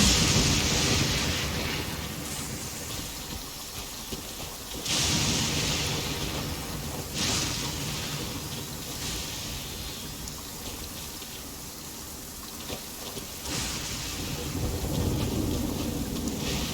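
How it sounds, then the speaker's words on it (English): Heavy rain pours steadily in the video game Genshin Impact, with several loud thunder rumbles rolling through the downpour; no voices are heard. "But we can't light it because of the rain."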